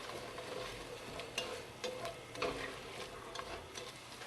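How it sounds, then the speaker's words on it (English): Onions cooking in melted butter and drippings for turtle soup, a quiet steady frying hiss with occasional soft clicks and scrapes of stirring, close and without talk. "Going to put the onions in now and start cooking them."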